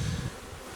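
Honeybees and drones buzzing at a hive in summer, a brief, faint, close droning hum with a slightly stronger low buzz at the start.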